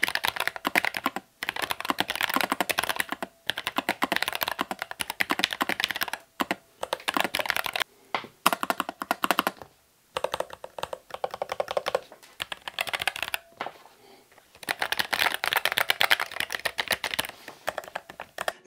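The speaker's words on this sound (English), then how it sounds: "Let's put this through a quick typing, sound and speed test, and this one has the brown switches installed." Continuous typing on a low-profile mechanical keyboard with brown switches, dense fast keystrokes with soft clacks, broken by a few brief pauses, close and fairly loud.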